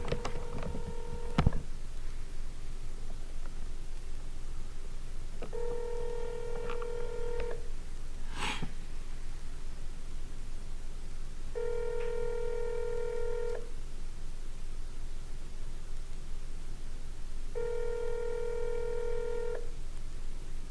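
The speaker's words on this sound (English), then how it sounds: "I'm going to go ahead and get this guy a call, get him on the line." A telephone call being placed: a few dialing tones at the start, then repeated ringback tones in regular bursts about every six seconds over a faint hum, with one brief click in between.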